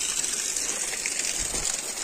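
Water runs down from a mountainside in a loud, continuous rushing gush on a hot day, with no breaks or changes in its steady hiss.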